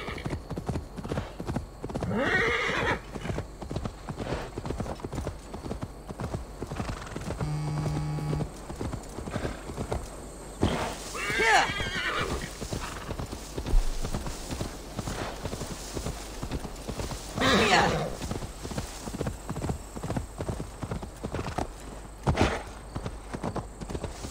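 Horse hooves clip-clop in a steady rhythmic trot in Assassin's Creed Valhalla, broken by several loud, shrill neighs and whinnies rising above the hoofbeats.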